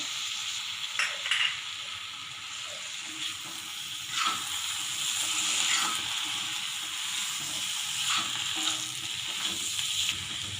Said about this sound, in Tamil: நல்லா வெங்காயம் மடங்குற வரைக்கும் நல்லா வதக்கிடுங்க